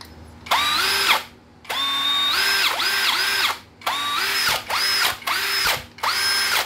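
A brushless three-function cordless drill runs in repeated close, loud bursts, its motor whine rising and dipping in pitch as it speeds up and slows, with brief pauses between triggers.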